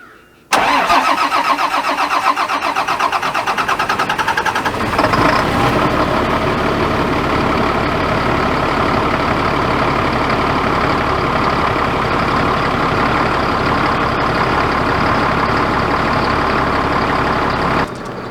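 A truck engine starts after an oil top-up and battery change, cranking briefly before catching with a surge, then running loud and rough at a steady idle throughout.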